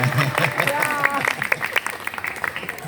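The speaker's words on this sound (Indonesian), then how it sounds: "Tepuk tangan lagi, Cimira, ayo semuanya." Church congregation clapping at an outdoor worship service, a steady patter of hand claps with voices talking over and between them throughout.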